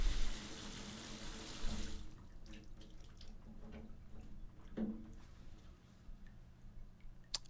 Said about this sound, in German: Haben wir eben kurz das Wasser einmal runterlaufen lassen